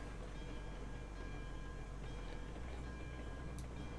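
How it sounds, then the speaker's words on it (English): A large train in the railroad video game Railroads Online rumbles along as a constant low, noisy drone with faint ticking, fairly quiet and steady throughout. "We're gonna bring that super huge train"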